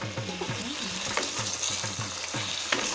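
Chicken pieces fry and sizzle in a pan as they are cooked down, a soft continuous sizzle with rhythmic scraping and clacking from stirring, quiet and close, with no talk.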